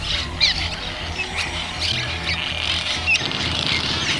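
A flock of about 100,000 birds in Batangas, Philippines, squawking and chattering at once, a constant busy din with sharper calls popping out now and then.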